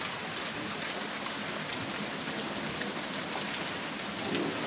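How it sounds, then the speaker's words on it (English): A heavy hailstorm in Brandon, Mississippi pours down as a dense, steady roar of pelting ice hitting the ground, continuous and loud with no talk. "That is hail."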